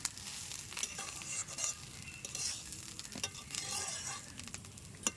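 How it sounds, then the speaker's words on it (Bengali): Half a kilo of rice fries in a pan for hilsa pulao, a steady dry sizzle broken by repeated scraping strokes of the stirring spoon, close and continuous with no voices. "আমার চালটা প্রায় ভাজা হয়ে আসছে"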